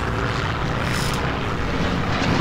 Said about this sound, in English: No, I'm just sending my bombers.